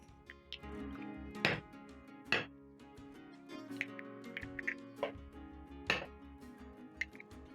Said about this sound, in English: Crack in 3 eggs in a bowl or in a plate.